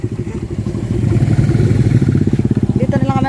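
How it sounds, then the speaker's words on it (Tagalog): A motorcycle engine idles and putters steadily up close as the rider parks beside a mango tree near a river bridge in rural Philippines, with a voice speaking over it near the end. "Dito na lang kami magpapark ng motor."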